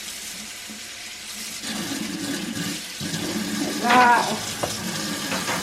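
Water from a kitchen tap rinses a dirty vacuum filter, a steady splashing hiss that swells louder partway through, with a voice briefly heard over it.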